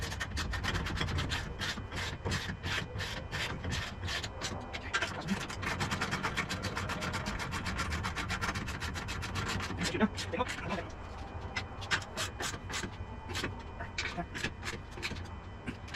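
A 9/16 socket wrench tightens bolts on a utility trailer crank mount, giving a steady run of close, scraping ratchet clicks with rubbing metal. Dense rapid clicking runs the whole stretch with no talk.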